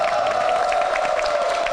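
Studio audience applause on a Korean talk show, a dense continuous patter of clapping at even loudness throughout, fairly close.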